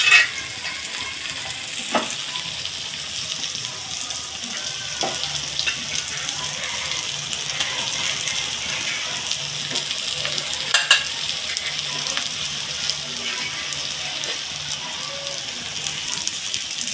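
Fried cauliflower pieces stirred into a spice paste, sizzling and frying steadily in a pan, with occasional utensil scrapes and knocks, close and moderately loud, no talk.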